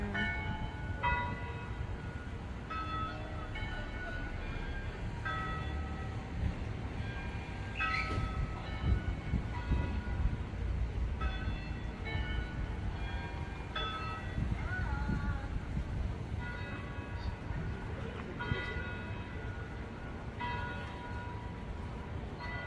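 Church bells in Albufeira, Portugal toll repeatedly at an even, unhurried pace, sounding faint and distant over a low background rumble.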